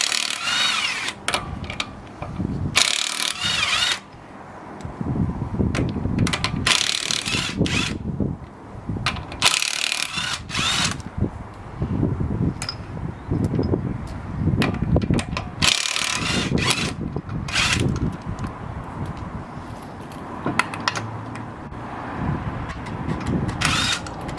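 A car wheel comes off with a ratchet and 17 mm socket during a strut top mount change. Repeated rasping, clicking bursts of tool work come close and loud, with short pauses between runs.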